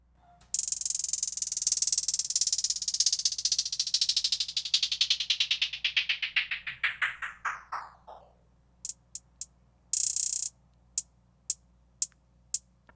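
Hi-hats processed with a Looperator downward pitch smash effect sweep down in a rapid, tightening stutter of ticks, then break into isolated sharp hits and a short burst, loud and alone.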